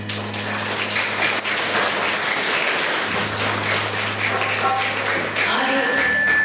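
Audience applause for a musician at a religious katha performance, sustained loud clapping from a crowd mixed with a steady musical drone and tones underneath.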